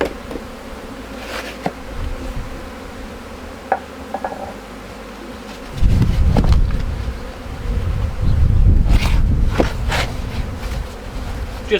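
A close, steady drone of many honeybees buzzing in a cup, swelling louder midway with thumps and rattling clinks of the container being handled.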